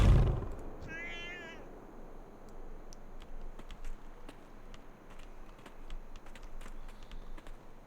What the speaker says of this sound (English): He pet the kitty.